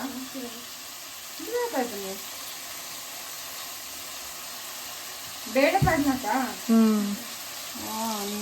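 Cumin seeds sizzle in hot oil in a home kitchen, a steady soft frying hiss running throughout beneath bursts of women's chatter.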